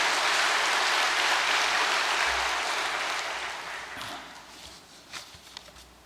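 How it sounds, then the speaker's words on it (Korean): Dense applause from a large audience fills the room, then gradually dies away into a few scattered claps. "감사의 박수를 보내고 싶습니다."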